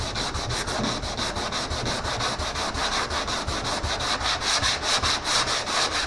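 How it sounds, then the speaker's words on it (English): Sandpaper rubs by hand across wood on a 2x4 block in quick, even back-and-forth strokes, close and continuous with no voice. "See, when you sand down,"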